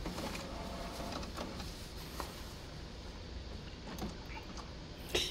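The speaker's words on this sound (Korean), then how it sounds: "자, 인쇄 품질 보고서 한번 뽑아볼게요." An HP 7720 inkjet printer runs off a print quality report, giving a quiet, steady mechanical whir with faint clicks and shuffles of the paper feed throughout.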